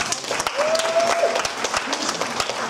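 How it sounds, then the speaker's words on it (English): An audience at an informal awards night claps in a big, steady round of applause, sharp individual claps over a crowd wash with a brief whistle-like tone riding on top. "Big round of applause for everyone so far."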